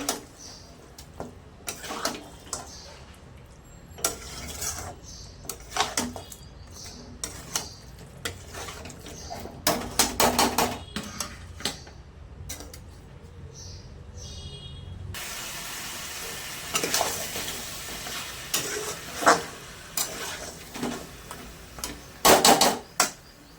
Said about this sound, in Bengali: মাংসটা ভালো করে কষা হতে দেব।